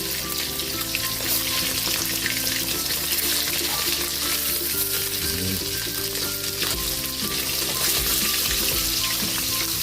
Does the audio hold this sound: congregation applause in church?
no